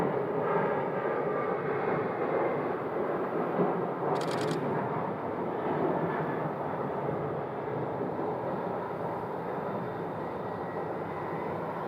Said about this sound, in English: 737 MAX 8 pushing back for departure.